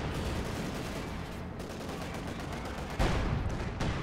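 Dense, continuous battlefield gunfire and explosions pound a KV-8 heavy tank in Company of Heroes 2, a thick wall of overlapping shots and blasts with a heavier impact near the end.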